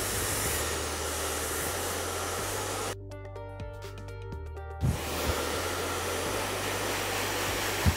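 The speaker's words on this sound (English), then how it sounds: "lift the hair away and start to dry from the roots, following the hair right the way through to the ends" A handheld hair dryer blows steadily during a salon-style blow dry of hair, a loud continuous rushing roar that briefly gives way to a steadier whining tone when the setting changes, then returns to full blast.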